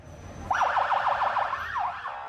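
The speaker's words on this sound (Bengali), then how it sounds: "মাঝে মাঝে টহল পুলিশের সাইরেন শুনলেই সটকে পড়েন সবাই" A patrol police car siren in Saudi Arabia wails in a fast rising-and-falling yelp, fairly close and clear for about two seconds over quiet street background.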